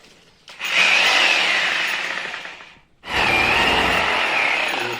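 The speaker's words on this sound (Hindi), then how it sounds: "ये ड्रिल मशीन से" A power drill bores into a wall while mounting an LG LED TV, whining loud and close in two long sustained bursts separated by a brief pause, with no talking over it.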